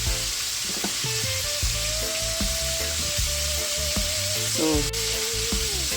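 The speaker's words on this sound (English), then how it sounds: "mine is in the Dutch pot over there frying" Jamaican barbecue fried chicken sizzles in oil in a Dutch pot, a steady, close hiss of frying that runs the whole time, with faint tonal kitchen sounds layered over it.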